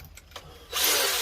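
A metal drill bites into thin metal on an LED grow light build, opening with a few light taps and then breaking into a steady, close, high whirring grind that holds until the end.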